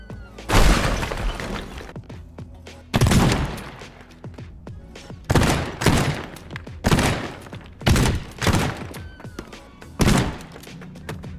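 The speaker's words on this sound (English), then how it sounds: "then I used a shotgun to clean up the edges" Shotgun blasts tearing through building walls in the destruction game Teardown, a series of loud, sharp booms with crumbling debris, spaced a second or two apart, close and with no talk.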